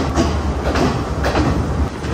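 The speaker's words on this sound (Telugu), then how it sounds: "ఇదిగోండి ట్రైన్ అయితే స్టార్ట్ అయిపోయింది" A Sri Lankan train pulls out of Ella toward Nuwara Eliya, heard from inside a general coach as a loud, steady rumble with rhythmic clacking pulses as the carriage gets moving.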